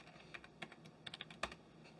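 A password is typed on a computer keyboard, with a short run of quiet, close key clicks at an uneven pace and a slightly louder press near the end.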